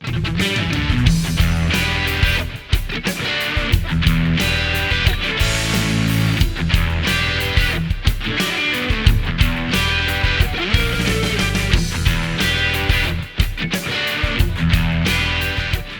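Overdriven electric guitar through a guitar processor's crunch patch plays rhythmic chords and riffs with a gritty, slightly distorted tone, continuous and prominent throughout with no talking.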